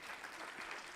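Brief, dense applause from the audience at a convention of Hindustani classical music, a quiet, uniform patter of many hands lasting about a second.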